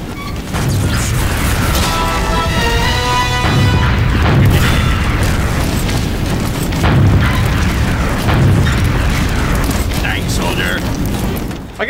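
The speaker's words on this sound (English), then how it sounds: "Oh, that's a sentry gun." A TF2 sentry gun firing in the video game, a steady loud mechanical barrage of rapid shots with booming impacts throughout, mixed with other game noise and a voice talking over it.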